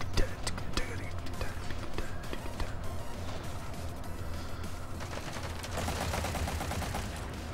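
Gunfire in the online shooter Metal Gear Online 3, a dense run of rapid shots and impacts mixed with game effects and movement noise, fairly loud and continuous throughout.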